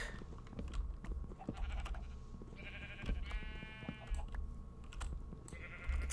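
Video game sheep bleat several times in short, nasal calls over a low hum, with soft clicking of keys in the background.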